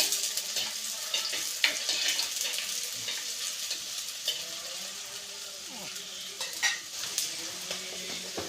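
Ginger, garlic, shallots and green chilies fry in oil for a fish curry, sizzling steadily up close while a utensil stirs and scrapes the pan with sharp intermittent clinks.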